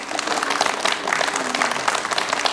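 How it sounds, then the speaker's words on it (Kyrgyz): An audience applauding a performer on stage at a television talent show: dense, steady clapping from many hands filling the whole moment without pause. "Элдин баары кол чабып ийиптир."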